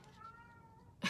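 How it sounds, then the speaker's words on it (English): A cat meows indoors during a morning craft session, a faint drawn-out call followed by a sudden louder, brief meow at the very end. "Can y'all hear the cat?"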